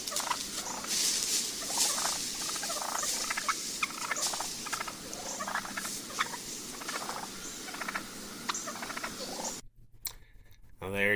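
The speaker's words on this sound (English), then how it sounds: "Now there you can hear those turkeys scratching along." Wild turkeys scratch through leaf litter outdoors with soft, uneven rustling and patter, mixed with faint purring calls, close and quiet before a short hush near the end.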